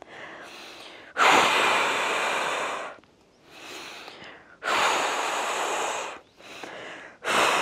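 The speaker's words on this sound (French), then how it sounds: "Et maintenant, vous allez faire du bruit avec votre respiration." Loud, deliberate yoga breathing during a beginner balance class: sharp inhales alternate with long, forceful exhales over several close, rhythmic cycles.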